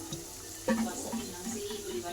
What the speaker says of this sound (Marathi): मसाला तर चांगला तळून झाला. आता आपण मॅश केलेली भाजी टाकून देते.